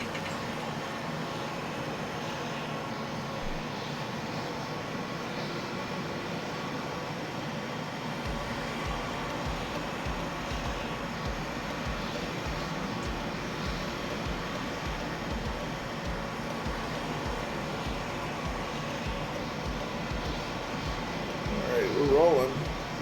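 A steady, droning engine hum fills the cabin as a large aircraft rolls slowly along the ground in Microsoft Flight Simulator, a constant low roar that swells briefly near the end.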